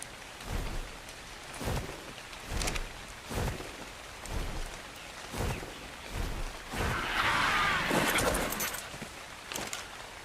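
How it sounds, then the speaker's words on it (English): Steady rain pours in the video game Ark Survival Evolved, a dense hiss running throughout, broken by recurring low thumps and a brief heavier swell of rainfall near the end. "Now it's raining."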